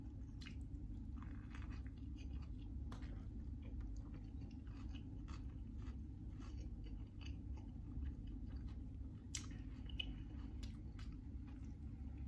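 Someone chews crunchy vegetables in a club sandwich as a late-night snack, with steady, close, soft crunching and squishing that runs through the whole stretch at low volume.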